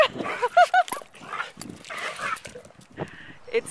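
A pet dog whines, yips and gives short barks wanting to play, with high rising whimpers close by, alternating with breathy pauses and a few quieter whines.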